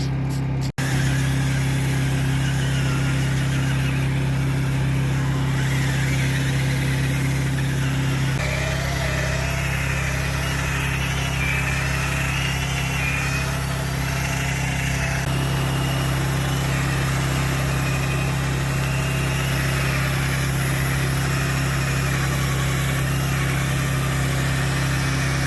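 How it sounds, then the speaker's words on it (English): A continuous steady motorized whir with a low hum, a drill-driven brush scrubbing dirt during cleaning of a BMW E38, with slight changes in pitch along the way. "Drill brush is pretty much lifting up the dirt."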